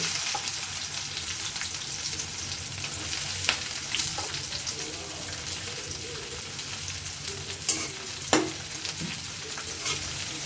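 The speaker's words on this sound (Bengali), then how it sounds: "এক কাপের মতো পেঁয়াজ দিয়ে পেঁয়াজটা লাল হওয়া পর্যন্ত আমরা এটাকে ভাজতে থাকবো" Onions sizzle steadily in hot oil in a pan while duck bhuna is being cooked, with a few sharp clinks of a utensil against the pan near the end.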